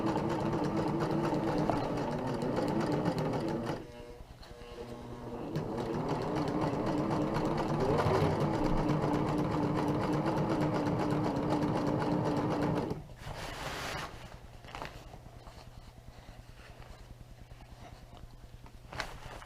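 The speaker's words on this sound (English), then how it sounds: "rolled the hem over, and what I'll do with this one is just run 1 stitch all the way down" Sewing machine running a single straight stitch along the rolled hem of a homemade ultralight tarp, steady and loud with a short pause near four seconds, then a break around thirteen seconds into quieter handling noise.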